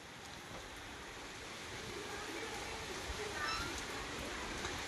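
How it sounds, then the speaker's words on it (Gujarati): Heavy downpour of rain makes a steady, fairly faint broadband hiss that holds evenly from start to end, with no other clear sounds. "મસ્ત ધોધમાર વરસાદ આવે છે"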